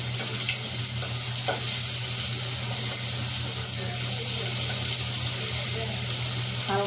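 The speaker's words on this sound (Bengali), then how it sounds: "মাছটা হলুদ দিয়ে লবণ দিয়ে মেখে নিয়েছে। মাছটা একবার ভাজা হয়ে গেছে" Fish rubbed with turmeric and salt fries in hot oil, giving a loud, constant hissing sizzle with a low hum underneath and occasional small pops.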